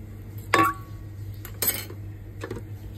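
A spoon clinks against a pot as salted rice is stirred, a few sharp metallic knocks spaced out over a few seconds with no talking.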